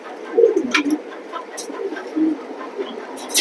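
Racing pigeons in a loft, a breeding pair with the hen settled on eggs, coo in soft, low, repeated phrases close by, with light rustling and scattered clicks between calls.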